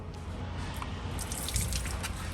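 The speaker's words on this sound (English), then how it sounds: "Look how the water reacts to the paint. Sticking to it and dripping down slowly." Water dripping slowly down matte paint on a Toyota FJ45 truck before ceramic coating, a soft wet trickle with faint scattered drips over a low background hum, close and quiet.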